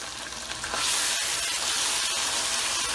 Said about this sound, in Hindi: देखिए भुनने लगा।